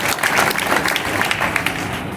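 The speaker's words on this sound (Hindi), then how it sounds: "बिना ताली बजावे मजा ना आवे" Classroom audience claps during a Hindi-language current affairs lecture, a dense, steady patter of many hands at close range lasting throughout, with no talk over it.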